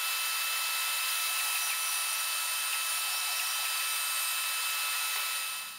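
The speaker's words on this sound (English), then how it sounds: "I'm going to cut this out on the bandsaw, this shape" A bandsaw runs steadily while cutting out the shape of a wooden knife holder, giving an even, bright high-pitched whir and hiss that tapers off at the very end, with no talking.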